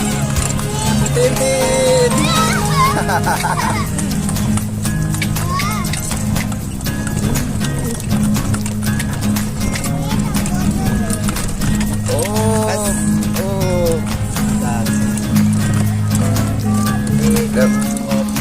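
Horse-drawn delman cart at Kambang Iwak in Palembang, with hooves clip-clopping steadily beneath loud music and voices, occasional horse sounds mixed into the busy scene.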